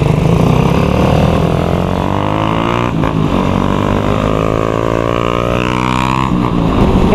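A motorcycle with a loud aftermarket exhaust pipe rides along near Governor Generoso, a loud, close, continuous engine drone that rises and falls with throttle changes.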